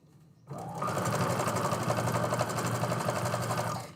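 A speed-regulated sewing machine stitching straight rows at a raised speed, starting abruptly after a quiet moment and running as a loud, steady, rapid mechanical whir for several seconds with no talk.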